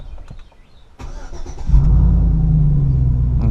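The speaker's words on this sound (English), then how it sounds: "I'm going to go ahead and start it." A Chevrolet Silverado engine cranks and catches, settling into a loud, steady idle after some quiet handling noises at close range; no talking.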